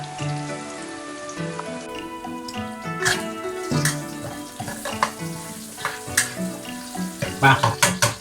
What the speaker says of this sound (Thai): แส่น้ำมันนิดหน่อยนะ ก็เกียกระเทียมกับขิงให้หอมก่อนนะฮะ